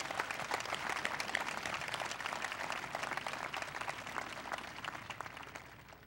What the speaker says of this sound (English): Let's have a round of applause for all our scholarship donors and the students who won these awards